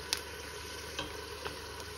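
Chili chicken with paprika sizzles faintly in a frying pan while being stirred, with a few soft scrapes and clicks from the utensil against the pan.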